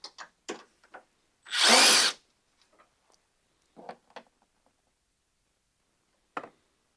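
A power tool spins off a 10 mm battery bracket bolt on a 1999–2006 GMT-800 Chevy or GMC truck: a single short whirring burst, surrounded by sparse clicks and taps of tools and parts.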